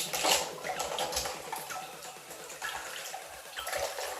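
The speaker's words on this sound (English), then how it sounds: "And you're just gonna wash the pieces." Small 2x2 puzzle cube pieces are swished and rinsed in water, with faint continuous splashing and clicking of plastic parts, quiet and close.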